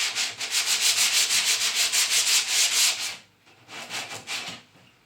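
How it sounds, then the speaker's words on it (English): Hand sanding of wood with 80 grit sandpaper for a bathroom vanity, heard as close, rhythmic back-and-forth rasping strokes, steady for about three seconds, then a short pause and a few more strokes. "Gonna sand. Got an 80 grit sandpaper."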